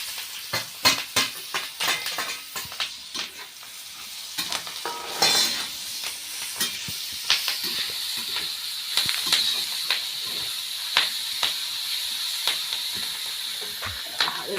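Drumstick pods hit a hot pan and fry with a bright, steady sizzle, while a spoon scrapes and stirs in irregular clatters close up.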